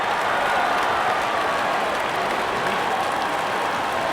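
A cricket crowd at an India versus Sri Lanka match applauds and cheers after a wicket, a dense, continuous wash of clapping and roaring that holds steady from a distance.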